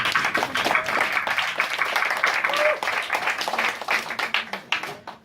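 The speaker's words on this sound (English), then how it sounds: "I think that deserves a round of applause." A room of listeners claps at a charity poetry marathon in Brighton, dense applause at moderate level with some sharper individual claps and a voice faintly mixed in.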